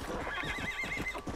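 A brief, wavering horse whinny in Red Dead Redemption: Undead Nightmare over a steady background hum, with a faint trotting rhythm underneath.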